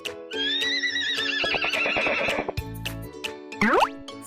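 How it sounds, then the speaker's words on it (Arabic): A horse whinnies in a long, loud, wavering neigh that rises and falls, followed by a few short snorts and a brief rising squeal, heard up close with no talk. "Horse."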